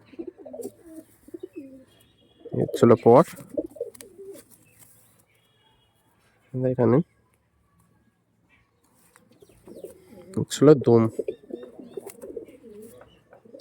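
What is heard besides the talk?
pigeons cooing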